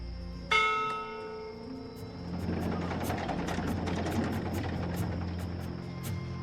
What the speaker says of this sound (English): From what I've learned traveling on cloud ships, this is a ship's bell.